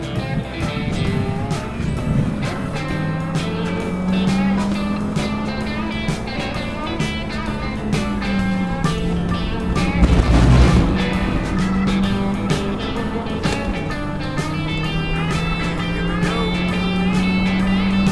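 Dodge Charger SRT Hellcat and base C7 Corvette Stingray being driven hard on a twisty road, a steady loud engine drone rising and falling with throttle throughout, with a brief louder surge midway.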